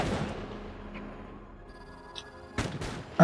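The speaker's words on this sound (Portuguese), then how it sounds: "vai ser difícil com esses caras atirando aí" Enemies firing guns in the video game Batman: Arkham Origins. A low rumbling backdrop is broken late by a couple of sharp, loud shot bursts, the last one the loudest, with no talking.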